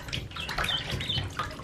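Ducklings splash and bathe in warm water, a steady wet sloshing and dabbling that runs close and continuous throughout, with faint chirps mixed in.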